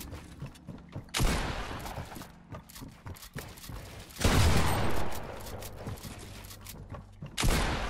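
Gunshots in the video game Fortnite during a one-on-one Creative match: a few loud, sharp bursts of gunfire separated by quieter stretches of movement and mechanical clatter.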